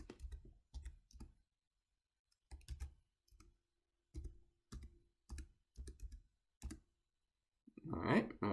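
Keys on a computer keyboard click in short, quiet bursts separated by pauses as a Wi-Fi password is typed, with a louder rustle near the end.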